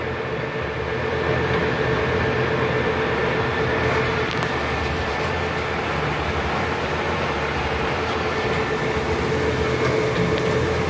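A Leblonde Makino 15 x 54 lathe with an L-1 spindle runs steadily with the half nut engaged, giving a continuous dense mechanical rumble and whir with a faint steady tone, even and unbroken throughout.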